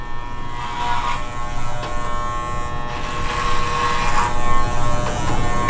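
A close, steady buzzing electric clipper drones while shaving a person's head, holding an even hum with slight changes in pitch as it moves across the scalp.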